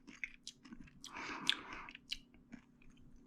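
Close chewing of baked mac and cheese topped with a crunchy panko crust: soft, irregular bites and crunches, with one louder crunchy burst in the middle and no talking.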